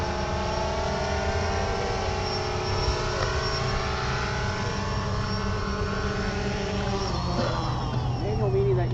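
A UAV mapping drone being brought down to land by hand, its steady whining rotor hum holding near and loud throughout with a shifting pitch as it descends; faint voices talk underneath.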